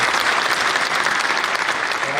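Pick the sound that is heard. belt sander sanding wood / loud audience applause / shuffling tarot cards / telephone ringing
loud audience applause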